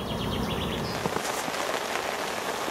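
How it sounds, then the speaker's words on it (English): Heavy rain pelting a lake at a carp fishery, a dense, even hiss of countless drops hitting water with a few sharper nearby splashes, steady and close throughout. "it's now raining heavily"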